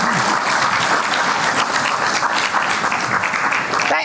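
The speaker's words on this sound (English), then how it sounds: "Can we have a huge round of applause for the keynote speaker?" A conference audience gives a keynote speaker a loud, continuous round of applause: dense, even clapping that holds steady for about four seconds.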